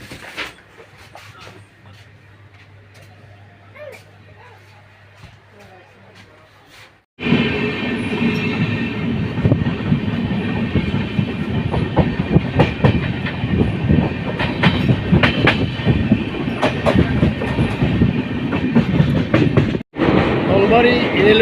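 Brahmaputra Mail passenger train heading to Guwahati, wheels clattering in a dense continuous rumble with rhythmic clicks, heard from inside the carriage after a quieter start, with brief talk in the background.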